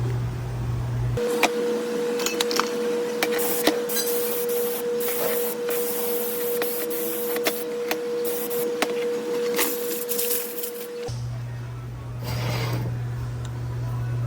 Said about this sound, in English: Let me spray it off.